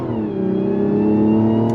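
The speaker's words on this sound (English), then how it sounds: "Love the sound of that turbocharged straight six." The turbocharged straight-six engine of a 2024 Mazda CX-90 SUV pulls hard under acceleration, a loud, close, steady rising drone with strong harmonics that climbs smoothly in pitch.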